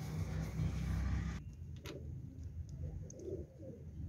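Pigeons cooing in a loft, soft low coos that come and go against a steady background hum, fairly faint and with no talking.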